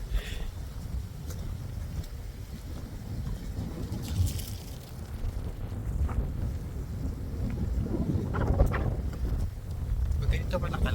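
Strong, cold wind buffets the microphone with a constant low roar and gusts at Zaanse Schans in the Netherlands, while a person talks under the noise.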